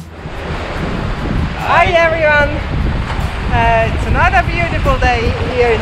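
Surf washing onto a Tasmanian east-coast beach near St. Helens, a steady broadband wash blended with strong wind noise on the microphone, while a person talks over it.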